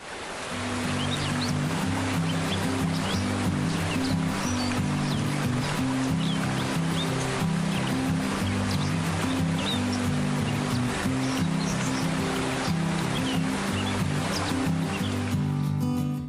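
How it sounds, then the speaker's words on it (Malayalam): A waterfall hidden in a cardamom hill forest in Idukki roars in a dense, continuous rush of falling water, loud and steady from start to finish, with low tonal music running beneath it. "മനോഹാരിത ചാലിച്ചൊഴുകുന്ന വെള്ളച്ചാട്ടം"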